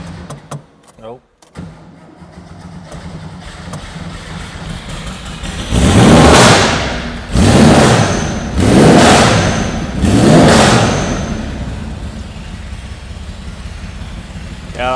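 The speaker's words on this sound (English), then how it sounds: "It's such a gnarly sounding car." After a few clicks and a start-up, a 1976 Porsche 911S engine revs hard four times in rising, roaring bursts, then settles to a steady idle nearby.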